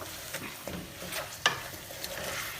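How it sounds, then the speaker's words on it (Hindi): Chicken cooking with korma spices in a pan, stirred and fried with a soft continuous sizzle, scraping stir sounds and one sharp clink midway, no voices. "इन मसालों के साथ अगेन चिकन को करें अच्छी तरह से कुक।"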